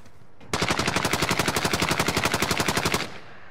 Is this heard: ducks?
no